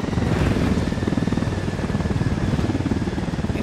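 A helicopter in the video game Ghost Recon Wildlands whirs close by, its rotor beating in a fast, steady pulsing chop over a low engine drone that continues throughout without talk.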